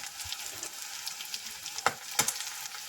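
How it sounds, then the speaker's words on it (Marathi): Onion sizzles in hot oil with a soft, steady crackling hiss, and two brief utensil clinks stand out near the end; quiet and close. "चला आता आपण थोडासा कांदा परतायचो"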